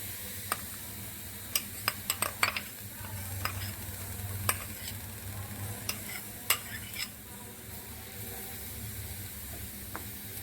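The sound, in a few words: onions frying and being stirred in hot oil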